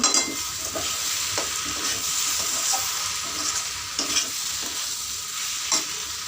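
A cabbage curry with green chillies and sugar is stirred in a frying pan: a steady sizzle runs throughout, with repeated scraping strokes from the spoon against the pan every second or so.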